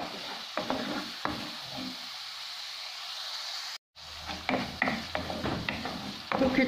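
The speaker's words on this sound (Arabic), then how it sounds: "نخليها تقلى شوية هكذاك واحد الخمس دقايق" Chicken liver with tomato and garlic sizzles steadily in a pan, broken by stirring scrapes and utensil clinks, with a short silent gap partway through.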